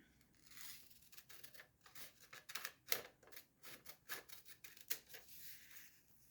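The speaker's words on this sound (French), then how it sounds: "Je vais prendre mes ciseaux et je vais couper." Scissors snip through notebook paper being cut along drawn lines for a homemade fidget toy, giving a quiet run of short crisp snips and rustles at an uneven rhythm, close by with no talking.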